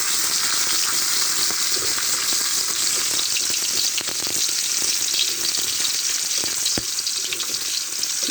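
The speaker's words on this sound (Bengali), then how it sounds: "এই যে আমার পেঁয়াজ ভাজা হয়ে গেছে" Onions frying in hot oil in a home kitchen pan, a steady dense sizzle with crackles and occasional stirring clinks, close and loud throughout with no talk.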